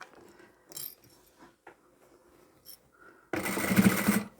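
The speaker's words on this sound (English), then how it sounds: "I'll start sewing a little bit further away from the side seam just because of the amount of bulk that's in the side there." A flatbed sewing machine top-stitching a bulky fabric bag made from pieced scraps: faint scattered clicks and fabric handling, then a close, loud whirring run of stitching for about a second at the end.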